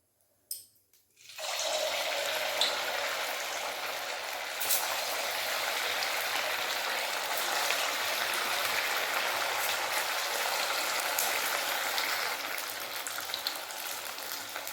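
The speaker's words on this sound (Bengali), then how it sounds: "তেল গরম হয়ে গেছে এরপর একে একে সবগুলো ছেড়ে দেবো" Semolina pitha cakes drop into hot white oil in a wok and fry with a loud, continuous crackling sizzle close by, beginning after a brief quiet moment and holding steady throughout.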